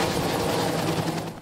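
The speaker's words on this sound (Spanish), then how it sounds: "Jesús sacramentado fue llevado sobre Santo Domingo para llevar la Eucaristía a los hogares desde un helicóptero" A helicopter flies over Santo Domingo carrying the Eucharist, its rotor making a continuous loud, rough, chopping roar throughout.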